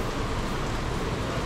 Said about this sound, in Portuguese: a chuva aumentou e dessa vez não dá pra passar por ela